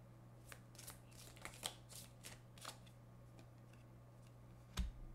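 Tea leaf oracle cards are shuffled by hand in a quiet room, soft papery riffles and taps coming in irregular bursts, with one sharper knock near the end.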